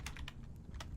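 A short burst of quick keystrokes on a computer keyboard while writing C# code, faint and close, about half a dozen clicks in an uneven rhythm.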